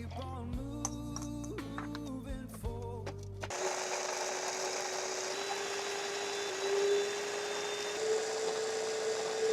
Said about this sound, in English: So just blitz it for about 30 seconds